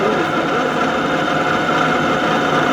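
A hoverboard hub motor spun up to 1000 rpm under test, drawing nearly 1 kW, producing a loud, steady mid-pitched electric hum and whine with no change in pitch.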